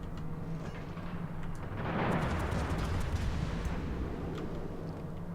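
Distant naval gunfire in the World of Warships battle game arrives as a deep, muffled boom that swells into a rolling rumble over a few seconds and then settles back into low ambient noise.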